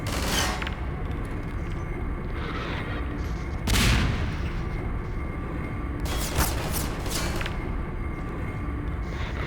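Gunfire from enemies in the video game Half-Life 2, a dense, steady barrage of shots with a few louder booming bursts standing out.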